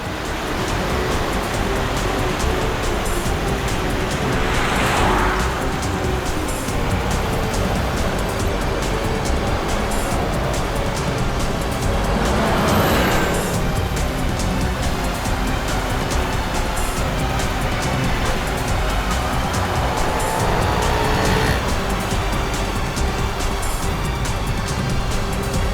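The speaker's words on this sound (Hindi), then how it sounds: "ये गाड़ी भी शिल्पा का पीछा कर रही है।" A car drives along a road following another vehicle, a steady, broad wash of engine and road noise lasting the whole stretch, with a few soft swells where the rush briefly brightens; no one speaks.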